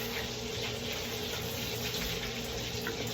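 Tap water runs steadily from a kitchen faucet while meat is rinsed during home dinner cooking, a continuous even broadband rush with no pauses and no talking.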